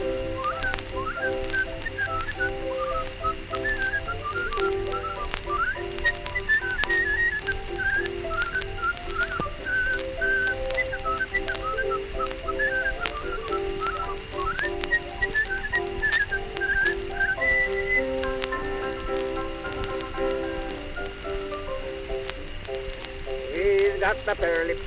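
A man whistles a lilting tune on an old historic recording, the melody running continuously for the whole stretch over hiss and crackle, fairly loud and close, without any speech.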